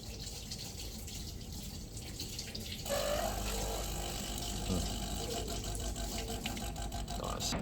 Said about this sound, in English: It'll already do like an automatic rinse, and you just gotta let it do that.